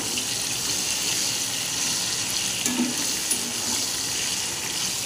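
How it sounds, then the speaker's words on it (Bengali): Potatoes seasoned with salt and turmeric fry in a pan with a steady, close hiss and sizzle that runs without a break, a couple of faint scrapes in the middle, no talking. "এই যে আলুর মধ্যে একটু লবণ একটু হলুদ দিয়ে একটু নাড়াচাড়া করে ভেজে নেব"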